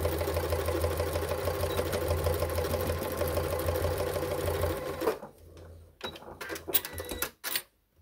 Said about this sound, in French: Et on va coudre tout le long.